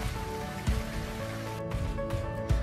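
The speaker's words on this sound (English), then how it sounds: "It is raining hard." Heavy rain pours down in a dense, continuous patter on a surface, with a soft music bed beneath it.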